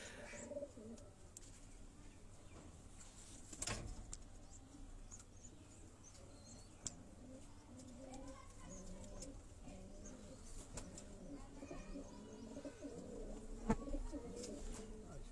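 Domestic pigeons kept by fanciers cooing on a rooftop among many neighbouring roofs, soft repeated low coos layered through a steady outdoor background, with a brief louder knock near the start.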